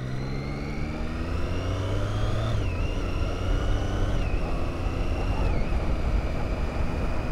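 A 2013 Triumph Street Triple R motorcycle accelerating through its gears, engine whine climbing steadily in pitch with brief dips at each upshift, loud and close over steady wind rush.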